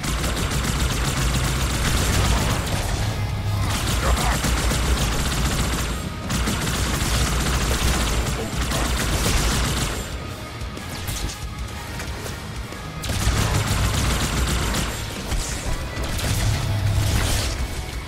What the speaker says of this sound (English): Oh, fuel rod cannon.